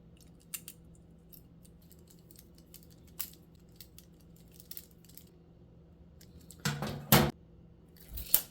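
Screws go back into a Holley EFI conversion fuel tank assembly: quiet scattered metallic clicks and taps, then a louder cluster of clattering handling sounds near the end.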